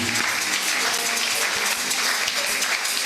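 A church congregation applauding loudly, a dense, continuous wash of clapping hands that holds steady for the whole stretch with no pause.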